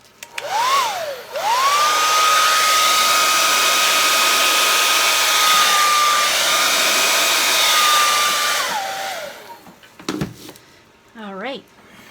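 A hair dryer blows across poured acrylic paint in a Dutch pour, spinning up with a rising whine, holding a loud steady roar for several seconds, then winding down, followed by a short burst and someone talking.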